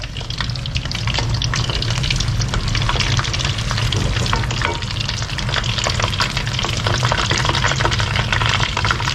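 Hot oil bubbles and sizzles steadily as pork-stuffed tofu skin rolls deep-fry and a utensil stirs the oil around, producing a dense, continuous crackle with watery churning, close and loud throughout.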